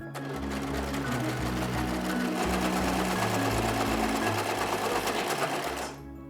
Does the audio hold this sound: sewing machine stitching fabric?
yes